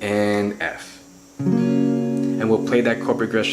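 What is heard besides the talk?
None of the usual background noises is heard.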